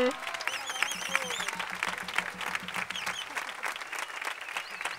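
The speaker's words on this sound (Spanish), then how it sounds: "Un aplauso muy fuerte para él." Crowd applause at an outdoor town fair concert in Sabiote, clapping for the band director of a music association, with music and voices mixed in, continuous and moderately loud through the clip.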